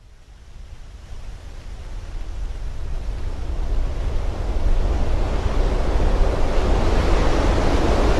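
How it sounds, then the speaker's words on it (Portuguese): Broadband roaring rush of wind against the fuselage of a falling Avianca airliner that swells louder over several seconds and stays sustained, dense and steady, with no voices. "um barulho terrível. Do vento contra a fuselagem, conforme o avião cai do céu"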